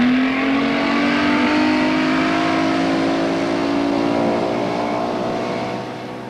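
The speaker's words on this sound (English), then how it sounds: "For our propping out demonstration, we'll use a 4 winds runabout with an Evinrude V6." A Four Winns runabout with an Evinrude V6 outboard runs loud and steady, its engine drone rising slightly in pitch as it powers across the water, then easing off at the end.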